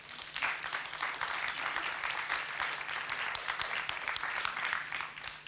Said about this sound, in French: Je vous laisse applaudir.